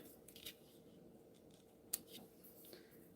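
Scissors snip through tape in a quiet craft studio, a few soft cuts with one crisp, sharper snip near the middle against low background hum.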